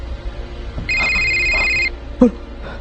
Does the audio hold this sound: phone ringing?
yes